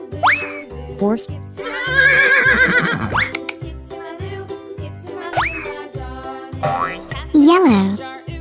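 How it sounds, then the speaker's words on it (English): Horse neighing in a children's learning animation: a loud, shaky whinny rising and falling amid springy boing effects and a steady bouncy beat. "Horse."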